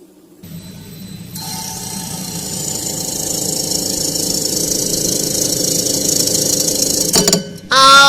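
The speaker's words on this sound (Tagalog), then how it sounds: "So, papakinggan ho natin ang compressor niya." An appliance compressor runs with a steady mechanical hum and buzz, checked by a technician, a constant drone that builds slightly before cutting off near the end into a brief different noise.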